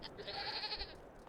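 A single goat in the video game Farming Simulator 22 lets out one drawn-out, nasal bleat, faint and steady for about a second over a low background hum.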